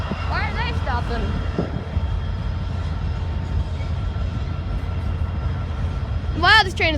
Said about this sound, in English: Wow, this train is long.